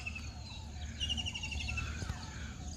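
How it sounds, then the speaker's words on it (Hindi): A myna bird calls near its nest while a squirrel contests it, faint high chirps and short whistled notes repeating over a low steady background hum. "इसमें एक मैना है और गिलहरी कर रही है मैना से कि हटो मेरे घोंसले से"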